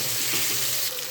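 Tomatoes hitting a hot pan of chicken biryani base, giving a loud, steady broadband sizzle of frying that continues without pause.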